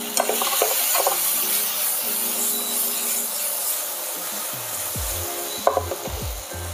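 Mirabelle plums stewing in a frying pan give a steady soft sizzle and hiss, with a few scraping stirs and clinks of a utensil against the pan.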